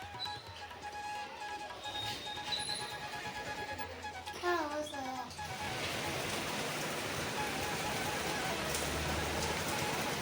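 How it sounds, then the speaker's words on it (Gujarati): Heavy rain falling steadily, a dense broadband wash of hiss that swells louder partway through, with a person talking over the start. "એટલો વરસાદ છે ને, તમે જુઓ."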